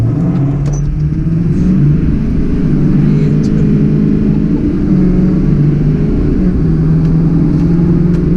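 A deleted Duramax LML diesel pickup makes a light launch, its engine giving a loud, sustained low drone that is heard from inside the cab and holds steady throughout.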